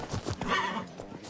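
Geralt's horse Roach in The Witcher 3 gives a short, fairly close neigh while hooves clip-clop along in a quick trotting rhythm.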